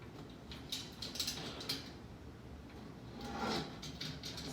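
Thin metal wires on a Dollar Tree birdcage door are bent back by hand, giving faint scattered clicks and light metallic scrapes in a quiet room.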